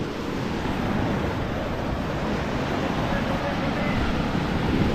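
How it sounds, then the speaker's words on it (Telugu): Strong water rushes through Pushpa dam near Gudisa hill station, a steady, dense roar that fills the whole stretch without pause. "వీడైతే ఉన్నది వాటర్ ఫ్లో అయితే గట్టిగా అవుతున్నది"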